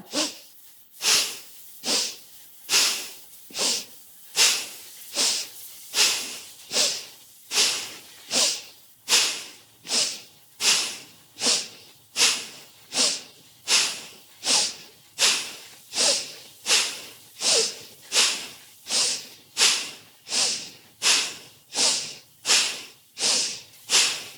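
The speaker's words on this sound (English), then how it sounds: "so you can really inhale forcefully and exhale the same force" Forceful rhythmic breaths through the nose during a dynamic yoga flow, about fifty sharp, evenly paced inhales and exhales. Each one is a loud, close, breathy rush with no talking.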